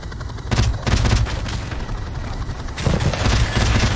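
Heavy automatic gunfire rakes a combat scene in Call of Duty Modern Warfare Remastered, fired from a helicopter at anti-air guns, loud dense bursts in two main volleys with booming impacts and no talk.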